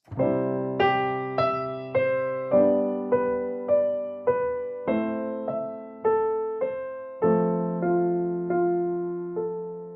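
A clean, piano-like melody of plucked notes over sustained chords, with a new note entering roughly every second, steady and moderately loud.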